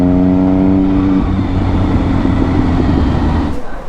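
An MV Agusta motorcycle with a loud aftermarket exhaust rumbles close by, its revs dropping from a droning note into a rough, throbbing idle, with no voices heard.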